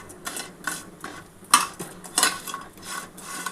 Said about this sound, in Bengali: একটুখানি হালকা করে ঘি দিয়ে ভেজে নিলাম